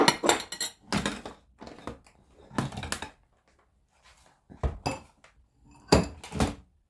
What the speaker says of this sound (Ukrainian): Будемо помаленьку, то все замішувати.